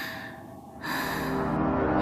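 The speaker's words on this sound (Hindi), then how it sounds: "तू इस तरह हाफ क्यों रही है?" A sharp, breathy gasp followed by heavy, rough breathing, close and fairly loud, with no talking.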